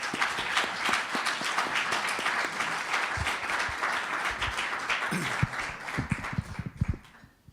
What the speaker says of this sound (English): I'd like to ask for a round of applause for all our panelists.